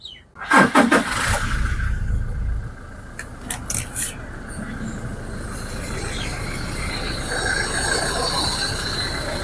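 A 2019 Toyota Fortuner diesel SUV engine turns over with a rough crank, catches, and settles into a steady, loud idle rumble that continues throughout.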